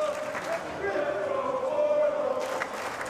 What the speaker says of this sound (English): Crowd comes to life again.